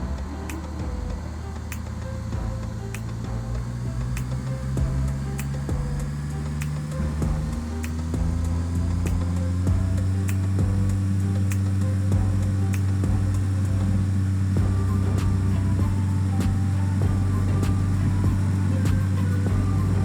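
An aircraft engine spooling up for takeoff in Flight Simulator X, a steady humming drone whose tones climb and settle as throttle increases, with light ticking clicks throughout.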